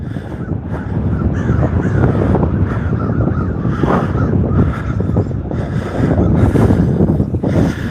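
A large flock of crows cawing continuously, many overlapping calls near and far over steady wind noise outdoors, with no talk.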